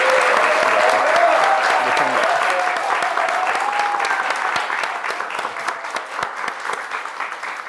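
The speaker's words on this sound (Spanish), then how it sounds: "Así que un aplauso grande para Cristian." An audience gives a loud, sustained round of applause that fills the room and slowly thins toward the end.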